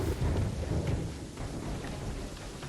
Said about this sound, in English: How come it's still so loud raining even down here?